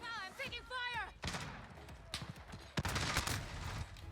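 Gunfire in a Modern Warfare match, a burst of dense overlapping shots and sharp cracks under a player's excited talking, with loud impacts late in the moment amid game noise.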